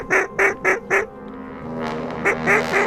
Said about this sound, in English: Duck coming right in.